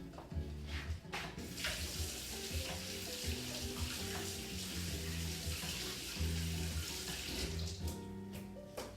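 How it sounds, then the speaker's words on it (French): Tap water runs steadily into a kitchen sink while fingers are rinsed during home cooking, a continuous close splashing rush with small clinks and no talking. "il faut que je me rince les doigts"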